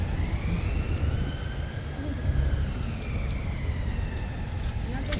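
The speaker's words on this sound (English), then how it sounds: "Notice how the sirens going along here, and there are sirens all day long" Sirens wail along a city street near a royal guard post, their rising and falling tones drifting at a distance over a continuous low rumble of traffic and street noise.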